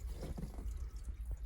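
Water drains out of pool equipment through an unscrewed air relief valve on a filter tank, a close, continuous dripping and gurgling flow with no talking.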